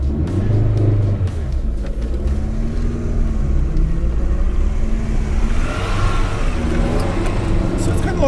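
A Toyota Tercel engine revs and holds high RPM while driving off-road, a steady loud rumbling drone with rising and falling pitch throughout, with a voice talking over it.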